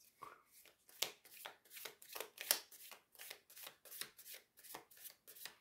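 A deck of oracle cards is shuffled by hand in riffle and overhand shuffles, quiet rhythmic papery riffles and slaps in a steady series of bursts, close and soft.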